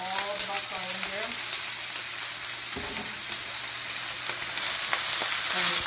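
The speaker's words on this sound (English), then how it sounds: "And quickly stir fry it." Baby bok choy, chopped stems and whole heads, stir-fried in a hot pan, giving a steady close sizzle with scraping stirs that grows a little louder toward the end.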